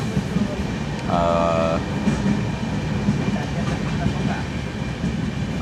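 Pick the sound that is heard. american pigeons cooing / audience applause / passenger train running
passenger train running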